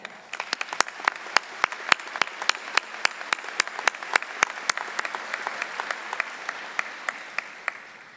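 An audience at a university commencement ceremony applauds its faculty in a steady patter of claps, with a few sharp, loud claps standing out near the microphone, fading slightly at the end.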